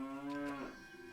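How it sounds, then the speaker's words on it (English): A single drawn-out cow moo in the Jade Empire video game, clear and tonal, sliding down at the end and fading to quiet. "Cow noises."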